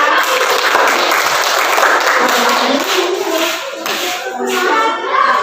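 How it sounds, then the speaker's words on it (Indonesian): Schoolchildren in a classroom burst into loud, sustained clapping and applause, hands slapping unevenly together with a few small voices mixed in. "Tepuk tangan buat saya."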